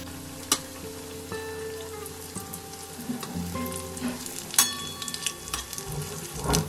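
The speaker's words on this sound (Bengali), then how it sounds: "এখন কিন্তু আমি লো টু মিডিয়ামে এই বড়াগুলো ভেজে নিচ্ছি।" Small shrimp fritters fry in oil over low-to-medium heat, giving a steady close sizzle with scattered crackles and pops, with tonal background music running underneath.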